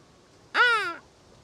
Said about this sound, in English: So, look at that crow.